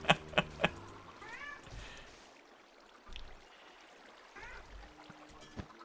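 A pet cat makes a couple of short meows, close by and soft, after several sharp taps, with low background noise in a home gaming room.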